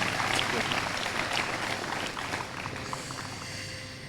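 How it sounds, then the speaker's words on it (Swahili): Secondary school boys applaud in a hall, steady clapping from a large group that slowly tapers off, with voices murmuring underneath. "Simpige makofi kidogo"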